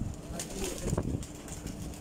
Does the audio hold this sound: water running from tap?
no